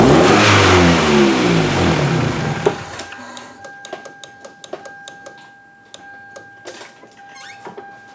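A 1999 Toyota Camry demolition derby car's engine revs loudly for a few seconds, then cuts off, followed by a string of sharp clicks and taps and a faint steady electrical tone.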